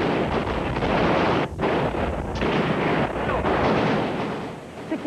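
Gunfire during clashes between security forces and crowds of Muslim fundamentalists in Algeria, heard as a dense, continuous roar of loud blasts and crackling, close and wind-buffeted, with a brief dip partway through.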